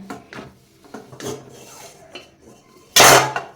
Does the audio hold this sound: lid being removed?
yes